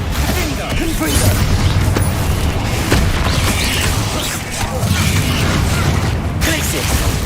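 Confringo fire-spell explosions in the Hogwarts Legacy video game, a dense run of booming blasts and bursts over a loud, continuous game soundtrack, with a character's voice calling out spells throughout.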